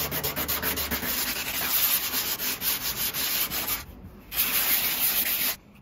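Epoxy filler on a windsurf board's nose is sanded with 240-grit paper in steady, rhythmic rubbing strokes, loud and close, with one short pause before the sanding resumes.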